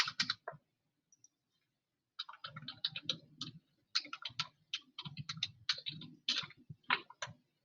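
Clicking of a computer mouse on a desk, a rapid series of close, crisp clicks arriving in bursts, with a brief pause early on before the clicks resume.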